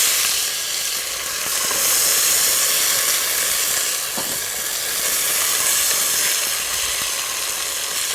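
Chickpeas hit a pan of cooked spices with a steady, loud sizzle and hiss that holds for several seconds, with faint stirring clicks and no voices.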